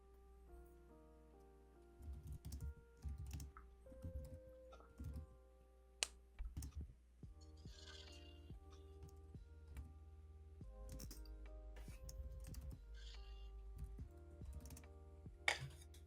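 Quiet, scattered keyboard tapping comes in short irregular bursts of clicks against a low steady hum, with pauses between the flurries.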